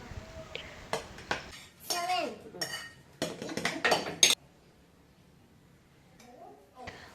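Homemade pickle being spooned into bottles, with repeated clinks and scrapes of a spoon against jars and metal dishes, mixed with talking and a voice, then quiet.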